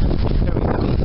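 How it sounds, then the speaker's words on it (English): Cold, snowy weather brings wind that batters the microphone in a loud, dense, unbroken rumble for about a second, heard on its own without any talk. "It's windy. It's snowy."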